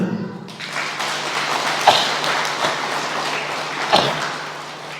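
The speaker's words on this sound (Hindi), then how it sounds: "तालियां दे दे" Worshippers at a Hindi-language church sermon break into applause after a brief pause, a moderate spread of clapping with a couple of sharper, louder claps standing out, and no speech.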